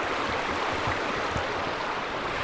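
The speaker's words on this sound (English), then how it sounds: "It's raining right now" Steady rain falling near a waterfall in the Teriberka tundra, a dense even hiss of water with faint low rumbles, close and continuous with no voices.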